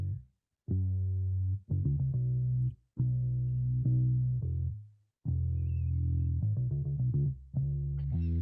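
A synth bass line for an 80s city pop track plays alone, with fat, rounded notes in short phrases separated by brief pauses and quick runs near the end.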